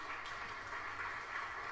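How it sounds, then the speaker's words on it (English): Applause in a live stream setting, a faint steady patter of clapping, distant and low in level, with no talking over it. "Thank you for the applause."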